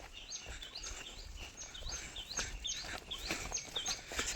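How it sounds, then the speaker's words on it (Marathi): Faint, repeated chirps and tweets of birds in the distance over a low outdoor rumble in the countryside near Murbad, calling on and off throughout. "पक्ष्यांचे छान छान आवाज"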